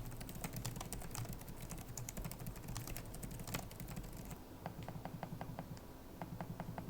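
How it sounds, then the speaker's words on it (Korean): Quiet Acer Nitro V 16 gaming laptop keys clacking in quick, uneven bursts of typing, soft and close, with no voices. "키보드 타건은 무난했습니다. 적당히 잘 눌리고 타건도 조용조용합니다."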